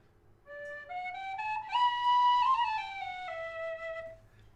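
An inexpensive Oak tin whistle in high D plays a short, clear melodic phrase of rising and falling notes, close and fairly soft, with no other sounds.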